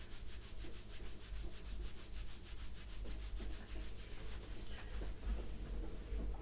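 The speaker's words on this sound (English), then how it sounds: "And give the lower back a rub." Hands rub briskly over the lower back during a Chen style health exercise routine. The soft, rhythmic swishing strokes repeat steadily and quietly at close range, with no talking.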